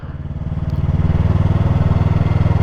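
A motorcycle engine rumbles steadily while being ridden at low speed, with a pulsing, throbbing beat that grows slightly louder, close and continuous, with no talk.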